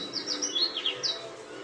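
Birds in the branches of trees sing a quick series of high, bright chirps and trills, close and clear against a quiet background.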